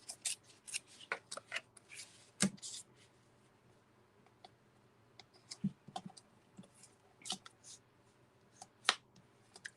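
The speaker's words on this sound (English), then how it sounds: "And let's rip this towards me on an angle." Paper is torn by hand at an angle while making a card, a faint scattered series of soft rips and crinkles with pauses between, and no talking.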